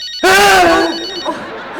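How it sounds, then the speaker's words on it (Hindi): A single loud telephone ring bursts in, bright and metallic, then trails off into a fading echo. "नहीं, ये तो फोन की घंटी, दरवाजे की घंटी नहीं है।"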